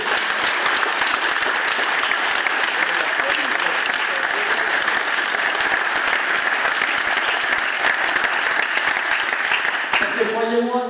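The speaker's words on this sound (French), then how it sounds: "Donc je voudrais l'ovation pour mon comité." Sustained applause from an audience honouring an organizing committee at a charity cheque presentation, dense steady clapping that fills the whole stretch before fading at the end.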